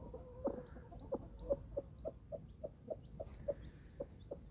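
Soft, regular clucking from a hen and peeping from newly hatched chicks, a steady series of short calls at an even pace, quiet and moderately close with no talking.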